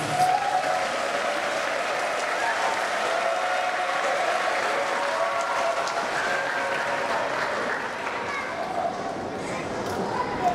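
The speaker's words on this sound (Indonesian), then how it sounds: "Mohon tepuk tangan untuk Bapak Bambang Suraki." Congregation applause during a Sunday Mass at a Catholic church, steady, moderately distant clapping sustained for about ten seconds with a faint voice underneath.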